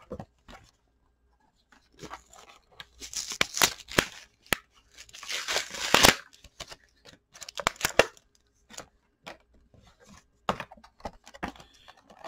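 Yu-Gi-Oh! booster packs are torn open one after another, making crinkly foil rips and rustling bursts. The crisp, close handling noises come in uneven clusters, with quiet gaps between them and no talking.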